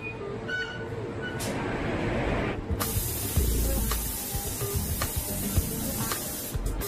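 A spray gun applies paint to a car part in a new-car factory, producing a steady close hiss that swells sharply partway through and holds loud, with faint clicks and background factory rumble beneath.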